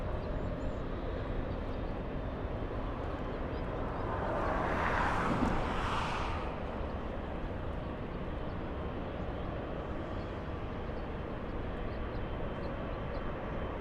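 Airliner on approach into Los Angeles International Airport from Auckland, New Zealand, a steady distant jet rumble that swells briefly as it passes and then fades back into a continuous broadband roar.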